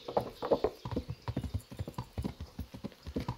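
Horse hooves clip-clop steadily in a quick walking rhythm in the medieval video game Kingdom Come Deliverance, with a faint whinny near the start, under low background sound.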